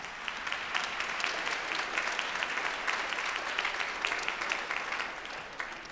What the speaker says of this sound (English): So I think you should all give yourselves a round of applause.